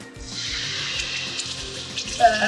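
Onion and garlic hit hot oil for a pot of chili, a steady hissing sizzle that starts abruptly and keeps going, with faint clinks and stirring noises mixed in.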